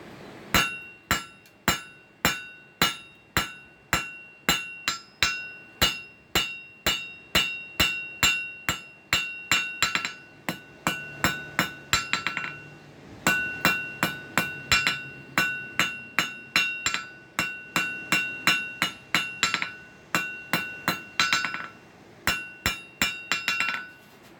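A hammer strikes hot steel on an anvil to flatten the blade of a decorative hoof pick, sharp ringing clinks coming in quick rhythmic bursts with brief pauses between runs, close and loud throughout.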